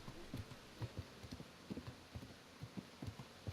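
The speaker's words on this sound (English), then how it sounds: "My horse is Roach." Horse hooves clip-clopping in the medieval video game Kingdom Come: Deliverance, a quiet steady rhythm of soft hoof beats over faint background ambience.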